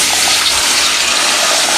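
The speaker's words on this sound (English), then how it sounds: "I'm gonna fill this mug up with water. So there goes my water." Tap water runs in a steady, loud, close rush, filling a mug for making simple syrup, with no talk.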